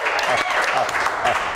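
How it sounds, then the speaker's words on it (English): Crowd applause greets a guest being introduced on a fringe festival interview show, a steady dense wash of clapping held at even loudness through the whole stretch, with voices blended in. "Please give him a round of applause"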